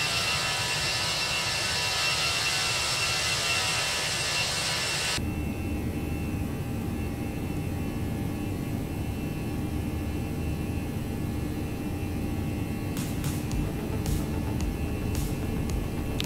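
Jet engines of a Toliss A319 airliner simulated in X-Plane 11, a steady broadband roar that shifts to a lower, duller rumble partway through, with a few brief clicks near the end and no talking.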